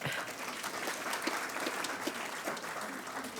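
An audience applauds steadily and evenly for a few seconds at a live-streamed event, a dense, sustained patter of hands with no voices over it.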